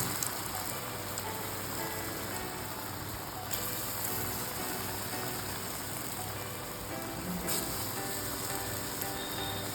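Raw banana kofta balls deep-frying in hot oil give a steady, dense sizzle with a rain-like crackle that holds evenly throughout, with no voices.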